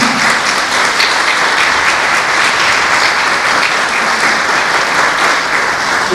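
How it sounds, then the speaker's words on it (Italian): An audience at a bel canto concert applauds in a dense, loud, even wash of clapping that holds steady throughout. "facciamo un bel applauso."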